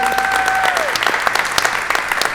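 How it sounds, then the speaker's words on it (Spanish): A group joins in a burst of applause during an online church session, close and lively with a few sharp individual claps standing out, and a voice briefly audible at the start. "¿qué te parece si les damos un aplauso a todos los que están conectados?"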